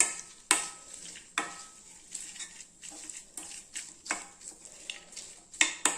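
Chili powder is stirred and sautéed in oil for a tomato pickle, a quiet sizzle under rhythmic spoon scrapes and metallic taps against the pan, repeating roughly every half second to second.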